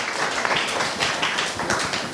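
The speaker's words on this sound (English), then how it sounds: "a very big round of applause for them" Sustained applause from a festival audience at a literature event in Colombo, a dense steady wash of clapping with no voices on top, fairly close and even in level throughout.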